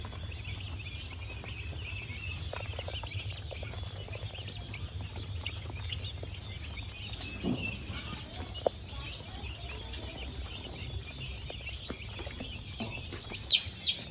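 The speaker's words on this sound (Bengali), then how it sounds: "এটা 15 দিন বয়স টার্কি মুরগি।" A steady chorus of high chirping from many 15-day-old turkey chicks continues throughout, with a few louder peeps and clucks near the end.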